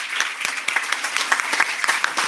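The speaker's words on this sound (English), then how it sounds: "A big round of applause for each one of them." Audience applause at a live Bharatiya Vidya Bhavan event in Amritsar, a steady patter of many hands clapping, close and moderately loud, with no talk over it.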